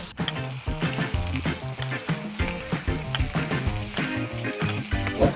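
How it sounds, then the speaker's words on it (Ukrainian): Chopped onion and carrot sauté in a frying pan, giving a steady, dense sizzle with pops and crackles. Low tonal notes run beneath it through the whole stretch. "На пательню засипаємо цибулю і моркву. Нам треба це пасірувати."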